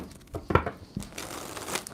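Tarot cards being shuffled by hand, a brief crisp riffle and a sharp papery snap near the middle, close and fairly loud, with a few lighter rustles after.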